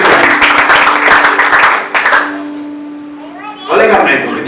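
A congregation at a worship service claps hands in praise to God, loud, rhythmic clapping for about two seconds, then a sustained tone and sounds of voices as it fades and swells again.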